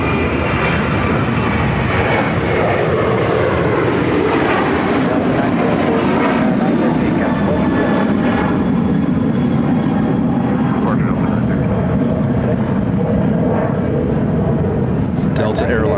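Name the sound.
Delta Airlines Boeing 737-800 jet airliner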